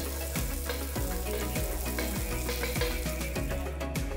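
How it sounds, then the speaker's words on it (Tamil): Butter sizzles on a hot dosa tawa before a sandwich goes on for toasting, a steady close frying hiss with a faint regular scraping or ticking rhythm and no voices. "இதுக்கு தோசை தவால கொஞ்சம் வெண்ணெய் போடுங்க."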